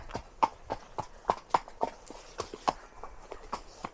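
Horse hooves clip-clop at a steady walking rhythm on a hack out, close and clear, with sharp regular strikes and no talk over them.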